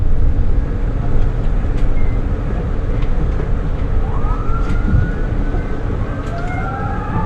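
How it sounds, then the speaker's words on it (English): A police emergency siren wails loudly over steady traffic and road noise near Deming, with rising and falling sweeps growing clearer toward the end. "Okay, I hear sirens."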